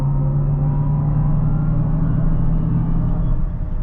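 Mercedes EQS AMG electric car in Sport Plus mode entering the Autobahn, a steady loud cabin drone with a low synthetic motor hum and road rumble, continuous and unbroken.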